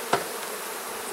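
Honeybees buzz densely and close up while a smoked hive is split, a brief steady hum with a faint tap at the start.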